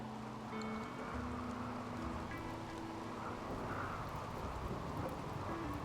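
Steady rain in the video game Rimworld, a dense continuous hiss with low rumbling like distant thunder, with a few soft tonal game sounds layered on top and no speech.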